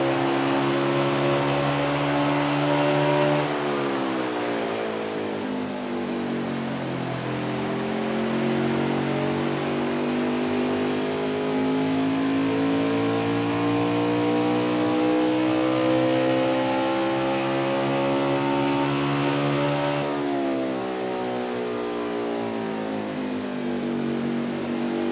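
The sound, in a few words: NASCAR Xfinity race car engines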